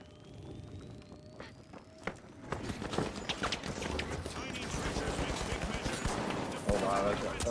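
Gunfire during a match of The Finals, with dense rapid shots and crackling impacts building in intensity, mixed with running footsteps and game noise, while players talk over it.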